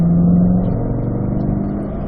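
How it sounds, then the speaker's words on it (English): A Corvette accelerates uphill on a race track, its engine a loud, steady drone with a rising tone at first, sustained close by throughout with no talk. "Accelerating up the hill now."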